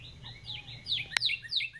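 A young jay at a desert museum gives a run of quick, high chirping calls in close succession, with one sharp click partway through.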